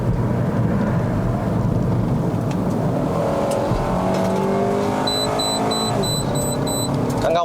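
A 2011 Honda Civic FD 2.0S climbs an uphill mountain road in Malaysia, its engine droning steadily and loud throughout, with rising harmonic tones as revs build and a faint high electronic beeping near the end.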